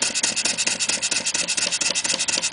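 A Clarkson vertical steam engine running on compressed air gives off a fast, steady train of loud rasping exhaust beats, evenly spaced and close, with a mechanical hum underneath.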